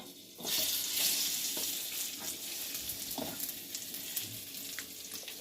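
Chopped dates sizzling in ghee over a low flame as a spoon stirs them, with a steady, close frying hiss that continues throughout with light scraping.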